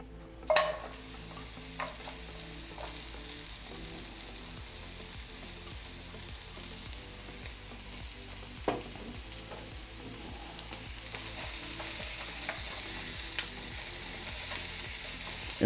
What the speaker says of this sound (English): I'm gonna go ahead and add a little bit of olive oil to it. We're gonna add the onions first.